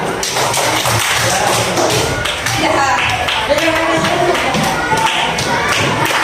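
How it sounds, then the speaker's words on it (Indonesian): Students in a seventh-grade mathematics class clap for a classmate group, a dense, loud patter of many hands and taps filling the room with some voices mixed in. "Beri tepuk tangan untuk kelompok 4."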